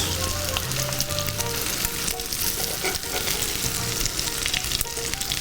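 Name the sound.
food frying in a pan, pieces flipped with tongs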